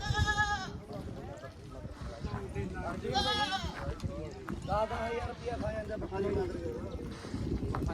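Several goats bleat in wavering cries amid a busy crowd of voices and constant bustle at a livestock market.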